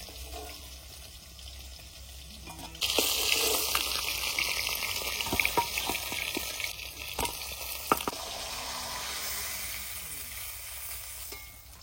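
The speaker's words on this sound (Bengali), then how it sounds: "এরকম করে সব মাছগুলো ভেজে নেবো।" Snakehead fish pieces frying in oil in a village kitchen, a sizzle that jumps to a loud, steady hiss partway through, with scattered crackles and spatters close by.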